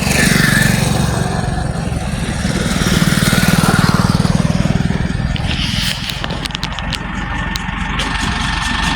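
Tractor pulling a trolley on a tar road, its engine putting out a loud, steady chugging rumble close by, swelling slightly midway before settling into an even drone, with some rattling toward the end.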